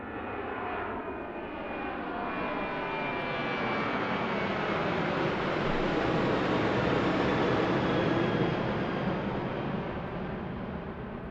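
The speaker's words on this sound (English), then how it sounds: "Full noise from Boeing, eh? Going long." A Boeing jet airliner at full power roars continuously at an airport, a broad loud rumble that swells toward the middle and fades slightly at the end, with no voices.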